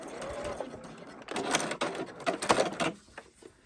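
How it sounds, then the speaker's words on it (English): A sewing machine runs a short burst of reverse stitches to lock a hemmed seam, a close mechanical whirring chatter rising and falling in quick pulses with no talking. "I'll finish off with the reverse stitches just to lock that in"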